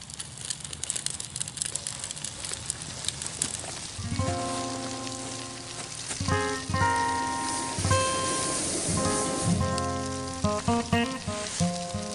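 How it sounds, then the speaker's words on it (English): A tin foil dinner set on a grate over a backyard campfire, sizzling steadily and softly throughout, with crackling fire noise and some tonal ringing sounds layered over it. "Immediate sizzle. That's a good sign."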